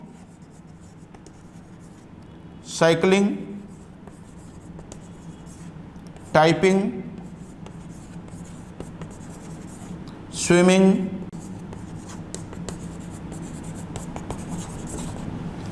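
Faint scratchy strokes of writing on a board run through a biology lecture on neural control, while a teacher's voice speaks a few short words in three separate bursts.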